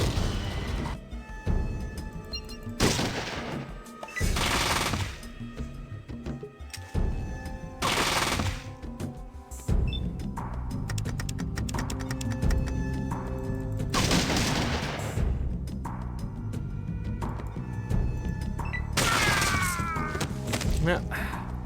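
Bursts of gunfire from a drawn gun in the video game Fallout 2 break out in several loud, rapid volleys, spaced by gaps, while a person talks over the game sounds.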